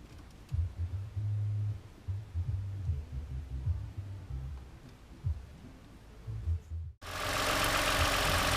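A 2008 Toyota Highlander engine idles smoothly and steadily without misfire, a low even hum with faint rhythmic pulsing, close by, ending in a sudden burst of broadband noise.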